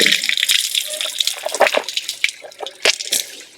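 Water splashing and trickling from a hand pump in Batticaloa, with irregular bursts of pouring and dripping close by, no talk heard.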